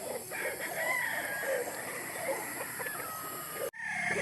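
Chickens on a farm, mostly a Lugon breed, call and cluck in a steady open-air chorus, with a rooster's crow drawn out above the flock and a brief cut near the end.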